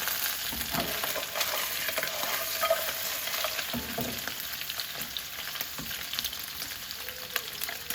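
Vegetables fry in a pan with a steady, close sizzle and bubbling, broken by a few soft scrapes and clacks as pieces are flipped, with no talking.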